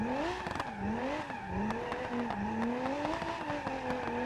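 Nissan 350Z with an over-boosted turbo drifting in the BeamNG driving game: a loud, continuous engine note rising and falling as the throttle works, with sharp crackles and tire squeal, and no talk.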